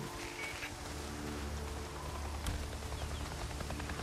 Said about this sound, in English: Seems like it's always raining here.